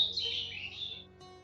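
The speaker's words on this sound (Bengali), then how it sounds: "পাখির কিচির মিচির ডাক" Birds chirp in a park, a brief, fairly close run of high twittering calls lasting about a second over a quiet low background, with no talking.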